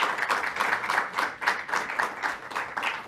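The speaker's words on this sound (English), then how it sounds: "Let's give a round of applause for Justina Garcia." Applause from an audience at a COVID-19 briefing in Syracuse, a steady, moderately loud wash of clapping that continues evenly throughout.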